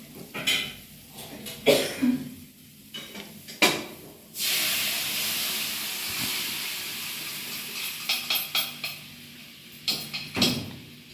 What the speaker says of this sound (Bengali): ডালটা আমি ঢেলে দিচ্ছি